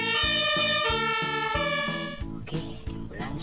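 A white toy ambulance plays an electronic siren, a bright stepped melody of repeating tones with a pulsing rhythm, loud and close, shifting pattern partway through with no talking.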